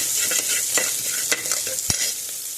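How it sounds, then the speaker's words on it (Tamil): Dried red chillies crackling and sizzling in hot oil in a pan, with stirring scrapes and a sharp clack, close up and continuous. "காஞ்ச மிளகா போட்டுட்டேன்."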